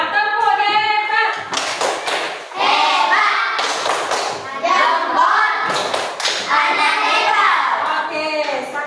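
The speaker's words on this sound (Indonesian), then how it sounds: "Tepuk hebat." Primary school pupils in a classroom perform a chanted praise clap, voices chanting together while hands strike in sharp grouped claps and thumps, the sequence repeating in a rhythmic pattern.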